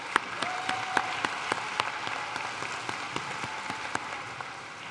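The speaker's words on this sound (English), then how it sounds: "Let's give her a round of applause." Applause at a Nashville State Community College commencement ceremony, a steady wash of clapping from the audience with scattered sharper individual claps standing out, held at an even level throughout.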